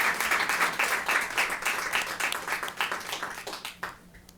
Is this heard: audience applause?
yes